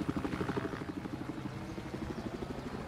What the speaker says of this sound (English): Looks like we got a chopper